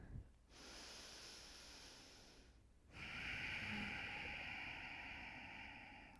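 Heavy breathing during a yoga compression pose, chin tucked to chest: two long, close, hissing exhalations with a short pause between them, the second louder and more strained.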